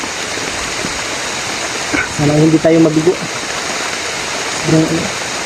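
Steady rain hisses loudly throughout, with someone speaking briefly over it.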